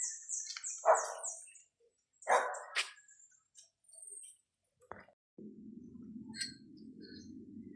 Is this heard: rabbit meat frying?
no